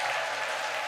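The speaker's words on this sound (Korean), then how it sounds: "박수 한번 쳐보도록 하겠습니다" Audience applause at a business lecture, a brief dense burst of clapping from a crowd, steady and moderately loud throughout.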